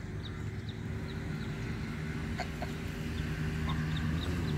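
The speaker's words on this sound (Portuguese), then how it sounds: "Eu tô com um olho no lago e outro olho nos marrecos e patos e gansos." Ducks and geese at São Fernando lake in Rolândia, with faint calls scattered over a steady low outdoor rumble and hum, without speech.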